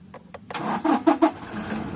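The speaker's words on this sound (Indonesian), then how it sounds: "kopling kita injak, harus kita injak sampai mentok, set, dan kita sekarang bisa nyalakan" Manual-transmission car engine starting with the clutch pedal pressed fully down: a few short clicks, then a cranking burst of three quick pulses that catches into a steady close idle.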